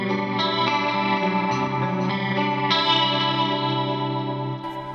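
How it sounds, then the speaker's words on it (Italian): An electric guitar played through a compressor, chorus, reverb and delay gives a loud, sustained shimmering chord wash with lush echo and modulation, in a 1980s-style clean tone, heard alone. "compressore, chorus, riverbero e delay, quindi il suono, diciamo così, da limonata anni 80"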